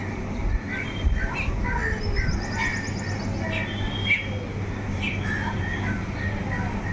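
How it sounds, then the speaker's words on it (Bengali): Scattered bird calls and chirps over a constant low outdoor hum, repeating at irregular intervals, moderately loud and fairly near. "কিচিরমিচির কিচিরমিচির সারাদিন ডাকতেই থাকে।"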